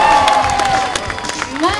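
An aquarium audience at a sea lion show cheers and shouts loudly in a big arena, a dense, sustained crowd roar with scattered children's voices, strongest at the start and swelling again at the end.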